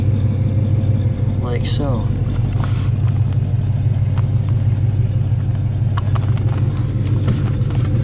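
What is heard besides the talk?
1955 Studebaker Commander engine running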